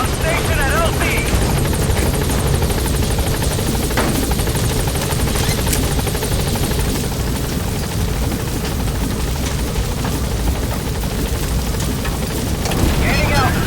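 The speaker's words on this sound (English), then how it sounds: "This is Pequod. On station at LZ." The Pequod helicopter in Metal Gear Solid 5 hovers at a landing zone, its loud, steady rotor thrum and whine filling the whole stretch, with radio voices talking over it.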